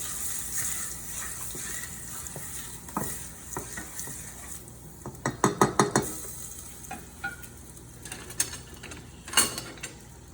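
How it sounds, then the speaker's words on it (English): A spoon scrapes and stirs chili powder and paprika in a cooking pot over a steady sizzle, with irregular clustered scraping strokes growing louder midway, close and alone without talk. "Stir a little bit."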